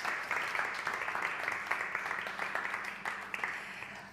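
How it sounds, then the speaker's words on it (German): Audience applause for a third-place award winner at the medius prize ceremony, a dense, steady patter of many hands clapping at moderate distance, slowly tapering. "bitte einen großen Applaus für Maren"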